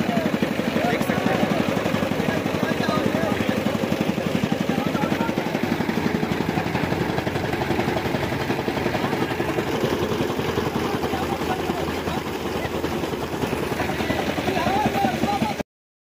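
A tractor engine runs steadily with a machine attached, likely a chaff cutter throwing out fodder in a village, its loud, dense drone continuing without a break throughout.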